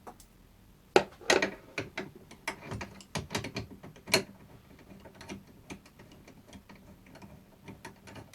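A ratchet removes the 10mm bolts from the seat of a Honda NC750X motorcycle, giving close, irregular metallic clicks and pawl ticks with a few sharper knocks and short pauses, and no talking.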